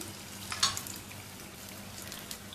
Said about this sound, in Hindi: दोनों तरफ से फ्राई हो जाए